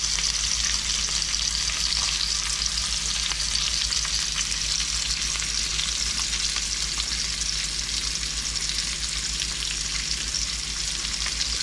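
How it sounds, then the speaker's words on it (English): Steady, loud sizzling of lamb chops frying in a hot pan, a constant crackling hiss that continues without pause. "So yeah, this is the sizzle."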